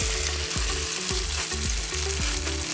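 Chicken chapli kabab frying in a pan, a steady, loud sizzle and crackle of oil that runs unbroken throughout, with no voices.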